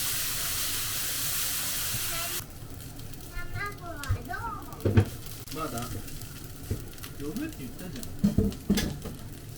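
Noodles browning in a pan for Osaka-style okonomiyaki, with a steady loud sizzle at first that drops to softer frying crackle and stirring scrapes, while a person talks over it.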